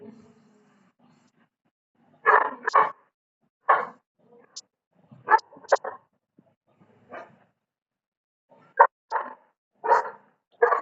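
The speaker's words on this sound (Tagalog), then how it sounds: "maingay yung aso ko" A dog barks repeatedly in short bursts, some close together, with quiet pauses between, fairly near and loud.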